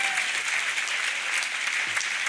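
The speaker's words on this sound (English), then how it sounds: "Give her a round of applause" A brief burst of audience applause at a poetry festival reading, steady and fairly full, carrying evenly from start to end.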